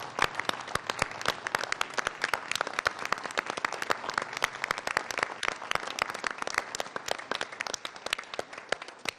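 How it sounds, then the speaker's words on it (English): An audience at a board meeting claps steadily for several seconds, a dense crackle of many hands at even loudness throughout. "let's give a round of applause to these girls"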